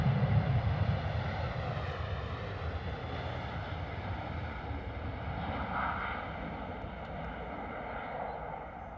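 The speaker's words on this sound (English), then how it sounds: "Gorgeous departure from Ryanair." A Ryanair jet departing London Stansted makes a steady, moderately distant engine roar with a low rumble and faint wind noise, holding fairly even before easing slightly, with no voices.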